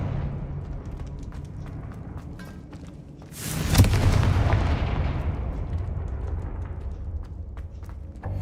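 A Confringo blasting spell from Hogwarts Legacy going off as a single loud booming explosion that rumbles and fades slowly, over a low steady game background.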